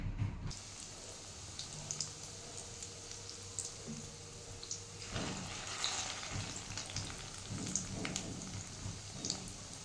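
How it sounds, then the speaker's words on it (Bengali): Fish roe fritters fry in hot oil, a steady, faint crackling sizzle with small pops that runs on alone and grows slightly busier midway. "তেলটা গরম হলে মাছের ডিমের বড়াগুলো ভাজবো।"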